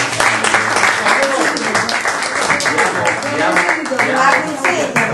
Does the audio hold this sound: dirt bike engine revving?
no